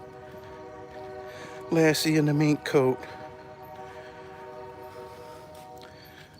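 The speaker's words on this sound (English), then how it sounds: "And there's a train coming." A train's horn sounds loud and close at a railroad crossing during an outdoor dog walk: two strong blasts, the second shorter, over a steady low rumble, with people talking nearby.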